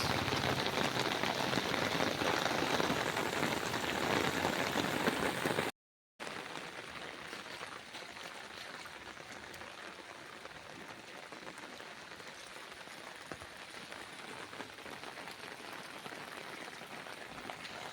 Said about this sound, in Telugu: భారీ వర్షం వస్తుంది హైదరాబాద్లో